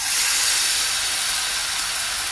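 Liquid wheat-flour dough for aloo paratha poured into hot oil in a pan gives a steady, loud, close sizzling hiss that continues without a break and without talk.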